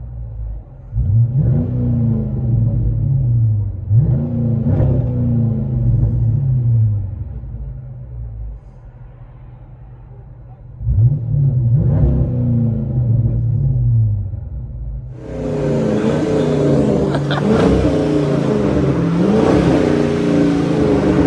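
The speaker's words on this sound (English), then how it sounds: "300C HEMI. Let you guys hear on the inside." Chrysler 300C with a 5.7L HEMI V8 and aftermarket exhaust, heard from the cabin as a deep rumbling idle rising into several loud revs, the last one a longer, harder pull.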